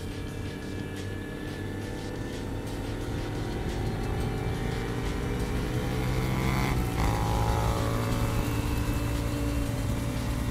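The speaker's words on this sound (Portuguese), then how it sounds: "Olha o tanto de moto, mano. Tem mais motos atrás." Motorcycles ride along an open road in a group, a steady droning engine hum with wind noise heard from among the riders, rising slightly as other bikes pass close by.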